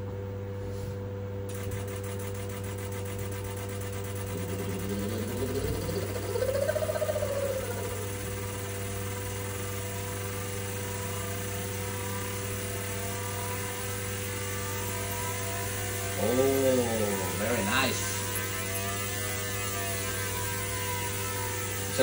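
A fuel injector ultrasonic cleaning and testing machine runs a simulation test, with a steady electrical hum under it and two rising-and-falling sweeps as the injector pulses speed up and slow down.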